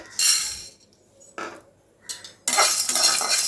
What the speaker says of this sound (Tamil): இப்போ நல்லா மிளகும் பூண்டும் நல்லா வாசனை வர அளவுக்கு வறுத்துக்கோங்க